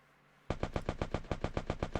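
Rapid automatic gunfire in a Free Fire battle royale match bursts in after a short quiet moment, about a dozen sharp, evenly spaced shots in quick succession, loud and close.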